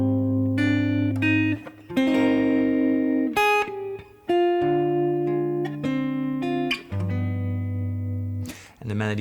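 A piano plays the chords of a song with the melody on top, a ballad-like sequence of sustained chords and single notes changing every second or so, close and clear with no voice.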